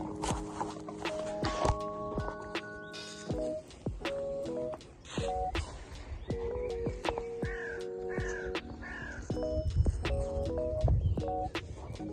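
A crow caws repeatedly outdoors in short, harsh calls at irregular intervals, fairly close, among scattered clicks and taps.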